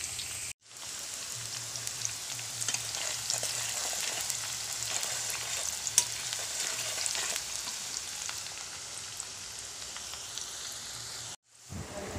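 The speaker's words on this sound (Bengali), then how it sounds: "তেলটা গরম করে পেঁয়াজটা দিলাম। তো পেঁয়াজটা দিয়ে পেঁয়াজটা ভাজা হচ্ছে" Onions frying in hot oil in a pan and being stirred, a dense, steady sizzle that carries on for the whole stretch with faint scrapes, close and even, briefly cut off near the start and end, with no speech.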